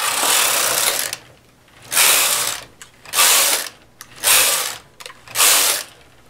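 A knitting machine carriage is pushed back and forth across the needle bed for five rows, each pass a loud, rasping mechanical swish about a second long, separated by brief pauses, close up.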